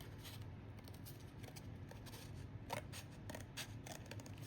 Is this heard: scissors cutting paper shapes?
yes